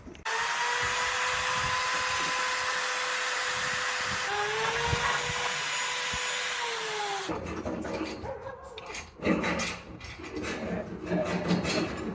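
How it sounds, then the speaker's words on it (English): A power drill fitted with a wire brush whines steadily at high pitch, then cuts to scraping, rattling brush noise against welded metal; loud, close, no talking. "I'm going to be using this wire brush on this drill to clean up everything."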